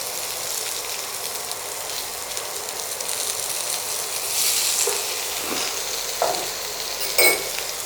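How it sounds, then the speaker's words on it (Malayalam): Chopped onion fries in hot oil for vendakka mappas, a steady close sizzle that swells with a couple of louder hissing bursts, with no voices. "ഞാൻ ഇതിനകത്തേക്ക് സവാള ആഡ് ചെയ്യുക."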